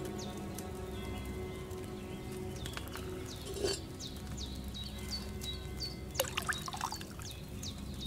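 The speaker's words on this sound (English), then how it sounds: "So, what did you pour in there? Wine, of course." Wine poured from a pitcher into a cauldron in Kingdom Come Deliverance 2, a faint continuous trickle and splash with quiet clinks and small drops over a soft background hum.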